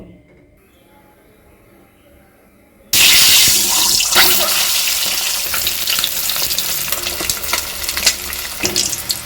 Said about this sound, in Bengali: এবার সর্ষের তেলে খুব ভালো করে ভেজে নেব